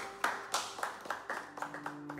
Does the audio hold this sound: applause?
yes